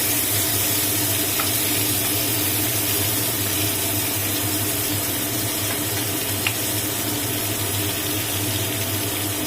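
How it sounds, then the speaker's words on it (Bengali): Pointed gourd (parwal) frying in oil in a pan over low heat gives a steady dense sizzle that stays even and fairly loud throughout, with no talk. "পটলটা এইভাবে ঘুরিয়ে ঘুরিয়ে ভেজে নেবে।"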